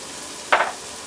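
A single short burst of sizzling as mushrooms are stirred while sauteing in a pan, brief and close, over a faint steady background hiss.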